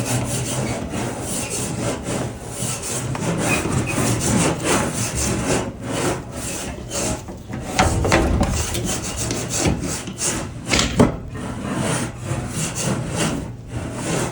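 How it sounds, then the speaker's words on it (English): A magnetic scraper grips the inside of kitchen exhaust ductwork and is dragged through built-up grease, giving repeated rough rasping strokes, close and loud, in a steady back-and-forth rhythm. "that magnetic, it grips the duct and holds the scraper against the duct"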